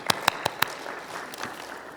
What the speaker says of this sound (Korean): 주님께 감사의 박수 드리겠습니다.